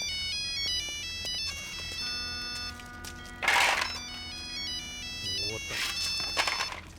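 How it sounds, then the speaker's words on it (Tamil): A telephone plays a melodic electronic ringtone in a scene from the Tamil film Dharani, with tones repeating over several seconds, interrupted by brief noisy bursts of movement. "இந்த சேகர் ஃபோன் பண்ணி அவன் உயிரை எடுக்கிறான்டா"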